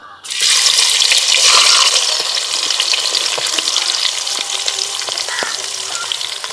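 Onions drop into hot oil for a spicy chicken spare parts curry, a loud burst of sizzling that holds steady and close, with light stirring clicks throughout; no one speaks.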